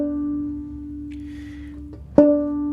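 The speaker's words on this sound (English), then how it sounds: "You should get a nice chiming sound from that move" A single sustained banjo string tone rings steadily, then a sharp plucked chime-like harmonic strikes near the end and rings on, alone and close.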